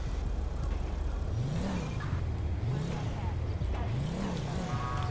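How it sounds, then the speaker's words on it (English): Sheriff police car engine in GTA V revving, rising and falling in repeated swells about every second over a steady idle rumble, close and moderately loud with faint game background. "Revving his engine."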